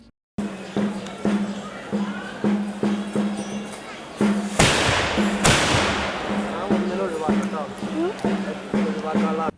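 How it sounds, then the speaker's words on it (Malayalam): Kathina temple firecrackers bursting in Kerala, two loud, sharp explosive booms about a second apart, with a ringing decay and rhythmic thumps and a voice around them. "ഈ ശബ്ദമാണ് കതിന പൊട്ടുമ്പോൾ നമ്മൾ കേൾക്കുന്നത്."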